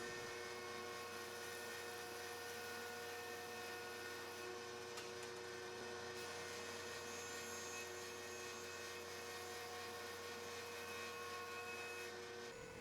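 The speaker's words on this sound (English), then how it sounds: "then I'll joint 2 adjoining faces." A wood jointer runs steadily, a constant high whine and whir from the machine as board faces are flattened for an end grain checker cutting board, holding even throughout with no voices.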